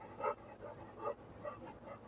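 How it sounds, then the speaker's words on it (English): A dog pants quietly and rhythmically indoors, several soft breathy puffs repeating at an even pace, faint and close, with no voices. "if you're hearing panting, we also have a dog"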